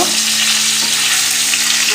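Paneer cubes frying in a pan over a low flame, giving a steady, close, even sizzle that hisses continuously without pause.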